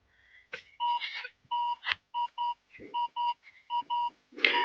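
A metal detector sweeping in a forest gives repeated electronic beeps in short bursts, steady tones with a few pitch changes, separated by brief gaps, then a rustling scrape at the end.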